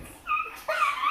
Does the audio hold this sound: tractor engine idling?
no